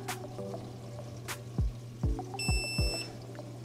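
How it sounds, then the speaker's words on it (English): ICECAP auto top-off alarm on an aquarium, a loud steady high-pitched electronic beep tone lasting about a second, amid water sloshing and a few low thuds. "So you could hear that loud annoying beep, and that you can hear that all across the room."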